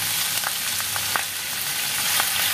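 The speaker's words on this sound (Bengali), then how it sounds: "চিকেনটা দিয়ে দিচ্ছি" Chicken pieces frying in a hot pan with ginger garlic paste, butter and oil, a steady loud sizzle with a few soft spatula taps and scrapes, close and without voices.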